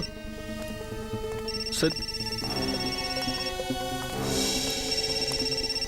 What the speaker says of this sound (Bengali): সিদ্ধার্থের ফোন